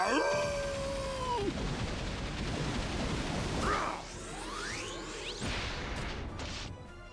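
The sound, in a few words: Prinny howling in the video game Disgaea 4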